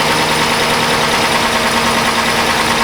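A Chrysler Town & Country with a 4.0 engine idles loud and close, a steady dense rattly drone that holds unchanged throughout with no voices.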